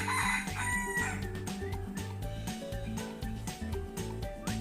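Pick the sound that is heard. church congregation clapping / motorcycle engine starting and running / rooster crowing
rooster crowing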